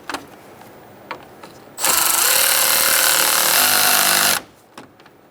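A power tool with a 10mm socket tightens the radiator fan bolt on a 2014-2018 Subaru Forester, a loud continuous whir lasting about two and a half seconds, framed by quiet handling clicks before and after.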